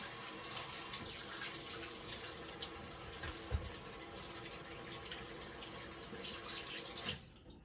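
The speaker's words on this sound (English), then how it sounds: "Let me wash my hands." Water runs steadily from a kitchen tap while hands are washed, a continuous broadband gush close by that stops abruptly near the end.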